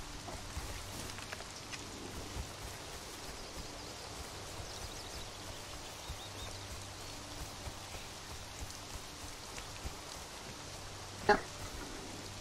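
Steady rain in the video game Conan Exiles hisses softly and continuously with scattered patters, broken by one brief louder tap near the end.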